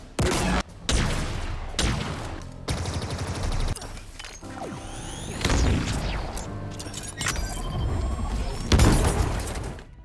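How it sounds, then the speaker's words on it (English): Gunfire and thrown-weapon blasts in Halo Infinite, a dense run of loud shots, bursts and booms with short gaps, some sharp and near, others heavier explosions, overlapping across the whole stretch. "Each gun and thrown weapon sounds unique and can be distinguished at a distance from sound alone."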